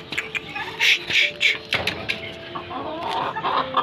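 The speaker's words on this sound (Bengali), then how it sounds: "আর ওইদিকে কালো মুরগিটা দেখো বেরিয়ে গেছে আর ঢুকছে না" Chickens, including a black hen and a white one, cluck on an open rooftop in a string of close, lively bursts, with a few sharper calls among them and faint background noise.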